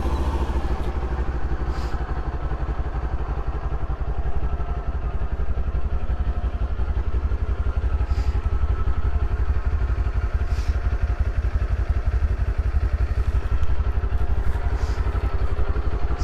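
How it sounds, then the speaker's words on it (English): A 2022 Kawasaki Z400 motorcycle engine with stock exhaust idles steadily and evenly, a low rumbling burble with a faint clatter that holds for the whole stretch. "So this is the stock exhaust."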